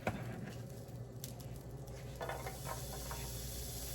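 Garlic hitting hot oil in a pan for a stuffed meatball sub, a dense, close, continuous sizzle with a brief stirring scrape partway through, no voices.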